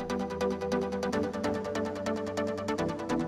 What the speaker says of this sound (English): And then the generic EDM chords.